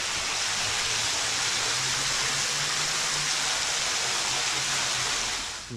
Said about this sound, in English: So this is the back of a waterfall.